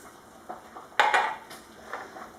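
A spoon scrapes and clinks against a bowl while semolina, sugar and coconut are stirred together, giving a few sharp close metallic taps and scrapes that then trail off.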